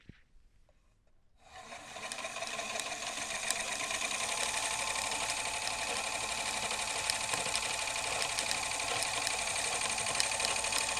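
An Electric Eel Wheel 5.1 electric spinning wheel starts up after a quiet moment and then runs with a steady, smooth mechanical whir and a faint rhythmic clatter, heard close up and alone.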